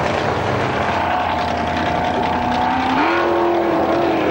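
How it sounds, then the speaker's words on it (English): A Vauxhall Astra race car's engine drones loud and continuous as it ploughs and aquaplanes through deep standing water, running rough and uneven, its pitch shifting upward partway through amid a steady wash of spray. "the engine also not running very cleanly"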